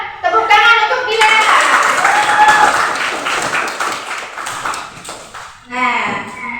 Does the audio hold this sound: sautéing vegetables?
no